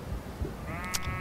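A single sheep bleats once, a short wavering call rising over a quiet outdoor background.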